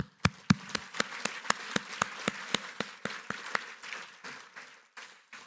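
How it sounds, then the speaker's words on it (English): An audience at a YMCA charity gala applauds honorees in a faint, thin patter of individual claps, fairly sparse and regular, dwindling toward the end. "Just another round of applause for our honorees."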